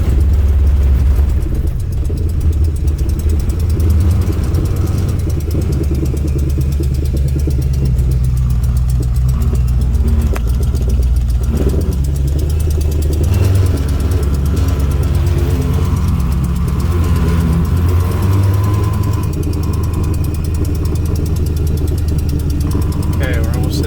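A 1964 Plymouth Barracuda engine runs for the first time in 8 years, a loud, close, continuous idle rumble with uneven revs, heard alone throughout.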